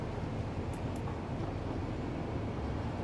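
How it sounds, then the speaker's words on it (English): A moving train in Satisfactory gives a steady, low rumbling drone with an even, continuous roar, with a brief faint high squeal near the start. "How do I stop the train?"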